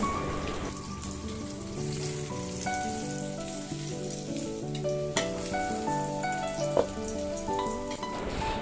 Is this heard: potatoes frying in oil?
yes